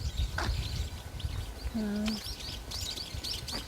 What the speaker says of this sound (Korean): 새들이 많이 와서 이제 지저귀고